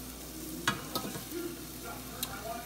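Shrimp frying in a pan, a continuous close sizzle broken by a few clinks and scrapes of stirring.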